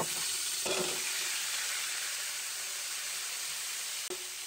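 Fried chicken pieces sizzling steadily in a pan of creamy chicken adobo with mushrooms, a loud, even hiss with a couple of brief clinks of stirring.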